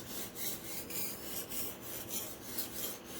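A Kyocera black ceramic knife drawn across Matrix sharpening stones, giving a steady rasping scrape in repeated strokes about every third of a second, close and moderately quiet, with no voices.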